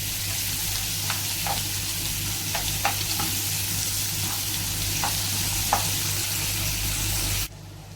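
Potatoes fry in oil and are stirred in a pan for a Kerala-style snake gourd stir-fry: a steady, dense sizzle with faint scrapes of the spoon, close and continuous, with no talking.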